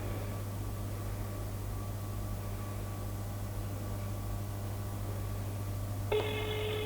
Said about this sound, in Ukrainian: Набираємо панечка Юрія Володимировича на третій номер.